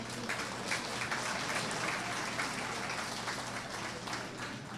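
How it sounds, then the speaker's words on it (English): Crowd at a county fair sheep and goat show gives a round of applause for senior exhibitors, dense continuous clapping in a large space, steady and fairly loud throughout. "Give these senior exhibitors a nice big round of applause"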